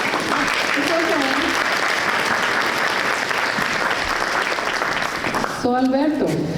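Graduation crowd at a high school ceremony applauding steadily and loudly throughout, with voices and cheers mixed into the clapping and a brief dip near the end.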